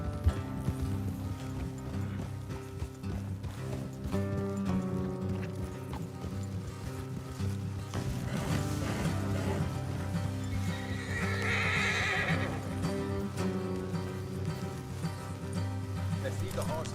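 Horses in Red Dead Redemption 2 trot along a road with steady clip-clop hoofbeats, and a clear neigh rises midway, set against a low droning musical score and light rain-like ambience.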